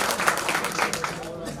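An audience claps at an annual election meeting: a short burst of applause with a voice speaking over it.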